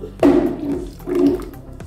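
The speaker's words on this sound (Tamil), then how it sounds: "போட்டுட்டு இதில் தண்ணி ஊற்றி இன்னும் கொஞ்சம் அடிக்கணும்." Water is poured into a grinder jar while making rasam, sounding as two short close gushing pours separated by a brief pause.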